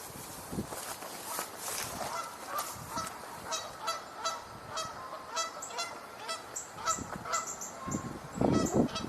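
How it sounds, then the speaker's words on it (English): Geese honking repeatedly outdoors on a nature trail, a flock giving rhythmic overlapping calls at moderate distance, growing louder and denser toward the end. "I hear other geese coming in by the sound of it."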